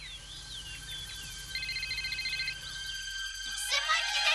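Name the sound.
telephone ringing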